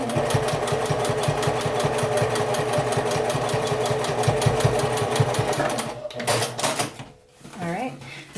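A sewing machine stitches fabric circles together in a fast, even mechanical chatter that runs for several seconds, then stops. A brief rattle follows the stop, and a person talks over the machine throughout.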